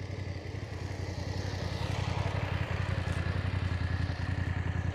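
A motorcycle on a road by Corbiere Lighthouse in Jersey on an evening at sunset, its engine a steady low rumble that stays loud and close throughout, with no voices over it.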